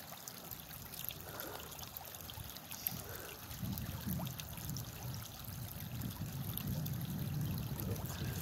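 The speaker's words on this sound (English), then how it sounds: "That is another spot where the water is coming up out of the mine." Mine water bubbles and gurgles steadily as it wells up into the Susquehanna River near the Knox Mine disaster site, a continuous moderate trickling that swells slightly toward the end.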